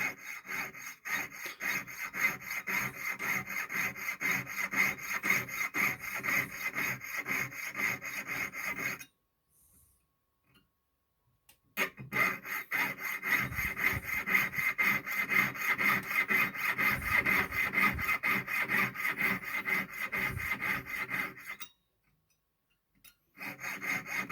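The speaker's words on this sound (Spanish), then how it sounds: "Ahora con la sierra 5-0 vamos a ir cortando esos triángulos hacia el centro con cuidado de no pasarnos." A jeweler's saw with a fine 5/0 blade cuts triangles in a metal ring in quick, rhythmic rasping strokes, close and steady, pausing twice before resuming.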